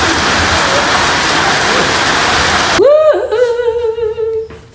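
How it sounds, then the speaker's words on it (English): Steady rain falls outdoors on a rural homestead in Zimbabwe, a loud dense hiss that runs continuously before giving way to a sharper tonal sound near the end. "Sorry, you're being rained on."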